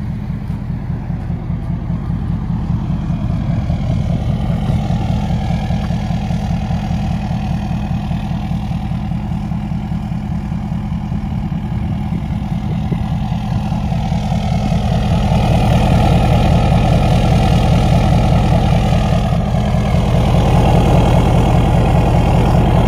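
A Ford 6.7 Powerstroke diesel truck with a 5 inch straight pipe idles steadily up close, a loud deep rumbling drone that swells slightly toward the end, with no voices.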